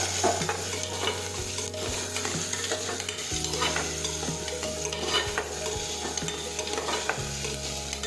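Chopped tomatoes and potatoes sauté in a pan with a steady sizzle, broken by repeated stirring scrapes and knocks, close and with no talking.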